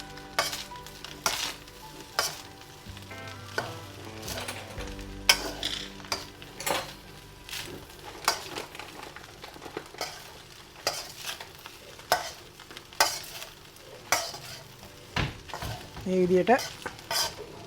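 Fried rice is stirred in a pan, with regular scraping and clinking of a metal spoon against the cookware over a soft background sizzle; a voice speaks briefly.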